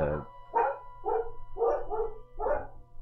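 Dogs bark repeatedly at moderate distance in a steady series of about five barks, with a low engine-like drone and faint background noise underneath.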